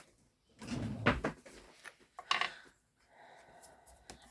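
A desk drawer holding a large bottle of Tombow glue slides open and shut at close range, with a couple of scraping, thudding movements followed by quieter handling noises.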